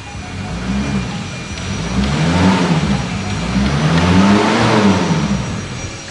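Mercedes-Benz 240 D diesel car engine revving up and down twice in a row, a loud, close, rough low rumble swelling and easing with each press of the throttle.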